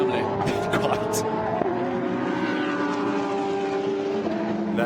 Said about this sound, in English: There's the 22 Ferrari, David Perel, local driver